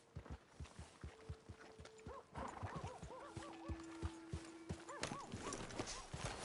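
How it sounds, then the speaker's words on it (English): Horse hooves clip-clopping in Red Dead Redemption 2, a steady walking rhythm of close, crisp hoofbeats with occasional whinnies and game ambience. "Hey! My horse! Am I glad to see you?"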